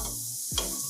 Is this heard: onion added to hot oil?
yes